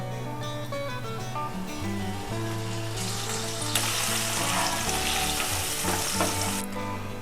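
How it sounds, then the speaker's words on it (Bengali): Dry red chillies, nigella seeds and a ginger-cumin paste fry in hot oil, giving a steady close sizzle that swells into a brighter, louder crackle partway through, with faint stirring and no talk. "এই তেলের মধ্যেই আমি কয়েকটা শুকনো লঙ্কা আর অল্প একটু কালো জিরে দিয়ে দিচ্ছি।"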